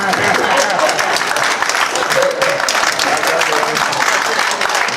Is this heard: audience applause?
yes